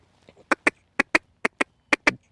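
A duck hunting call blown as a feeding call: eight short, clipped quacks strung together in quick pairs so they run almost like a chuckle. The quacks are close and distinct, with near silence between them and no speech.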